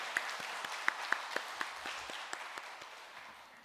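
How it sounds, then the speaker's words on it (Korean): A church congregation applauds the choir and musicians after worship singing, steady moderate clapping in a reverberant hall with a few sharper claps standing out. "우리 다시 한번 박수로 감사와 격려의 마음을 전합니다"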